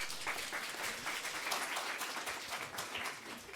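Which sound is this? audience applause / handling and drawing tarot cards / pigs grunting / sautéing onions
audience applause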